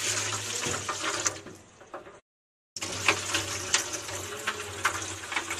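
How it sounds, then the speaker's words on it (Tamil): Water pours steadily into a fish tank being refilled after cleaning, a close, continuous splashing rush that cuts out briefly and then resumes just as strongly. "இப்போ வாட்டரை ஃபில் பண்ணிடலாம்"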